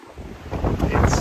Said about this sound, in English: it's windy today. There's an onshore breeze and it's blowing a gale